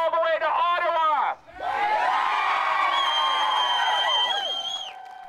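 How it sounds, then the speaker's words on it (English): A protest crowd roars and cheers with whoops and shouts, a loud massed din that dips briefly, then swells into sustained yelling before easing off. "I want this crowd to make a noise that's heard all the way to Ottawa."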